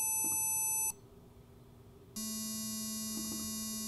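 Steady electronic tone from an Arduino using pulse-width modulation to produce 220 Hz, a buzzy harmonic-rich beep that plays, cuts out briefly, then resumes at a different pitch for the rest of the clip.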